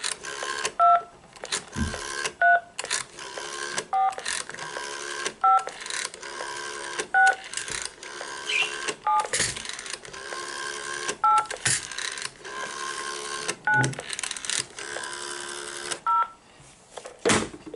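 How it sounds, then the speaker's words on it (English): A series of short telephone keypad tones beep one after another at a steady dialing pace, clear and close, with faint clicks between them. "Now I'll demonstrate here when I dial, so it will come as tones."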